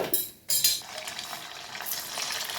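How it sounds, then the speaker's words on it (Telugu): Soya chunks (meal maker) deep frying in hot oil for Manchurian, a steady close crackling sizzle with a short dip early on, then continuous bubbling fry with light stirring. "నూనె కాగింది ఇప్పుడు డీప్ ఫ్రై చేసుకోవాలి"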